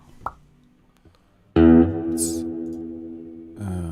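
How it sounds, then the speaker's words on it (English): A distorted electric guitar chord rings out loudly and sustains, followed by a second struck chord after a few quiet plucks and clicks. "Let me put on a little bit of distortion. I just want to hear it messed up a little bit."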